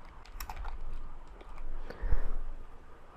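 Someone types a channel name on a computer keyboard in video-editing software: a close, quick run of light key clicks in uneven bursts, with a few louder taps near the end.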